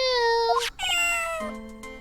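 Three cartoonish cat meows in quick succession from Phoenix Wright: Ace Attorney - Justice for All, bright and close, with a short gap after the first and the last one lower and drawn out.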